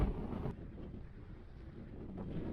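Blustery wind at sea off Flores in the Azores buffets the microphone with a constant low rumble and roar, loud and unbroken throughout.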